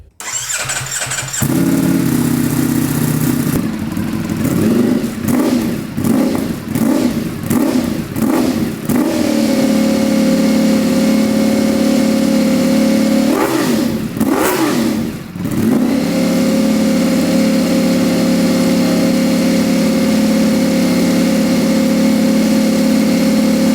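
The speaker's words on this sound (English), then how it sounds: "we're gonna start the bike here in a second, cycle it" A 2023 Ducati Panigale V4 motorcycle fires up after an oil change and settles into a loud, steady close idle, with a run of sharp throttle blips and a second short burst of revs partway through.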